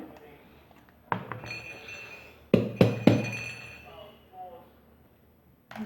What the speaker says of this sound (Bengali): প্লেট দেব, প্লেটে জাস্ট উল্টা এভাবে নিয়ে উল্টা করে পুডিংটা ঢেলে নেব।